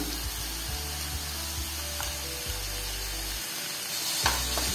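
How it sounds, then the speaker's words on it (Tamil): Chopped onions sauté with potatoes in a hot pan, a soft continuous sizzle with a few light scrapes and taps of stirring, close and fairly quiet, with no talk. "வெங்காயம் சேர்த்ததுக்கு அப்புறம் திரும்பியும் ஒரு 3 நிமிஷம் நம்ம வதக்கிக்கலாம்."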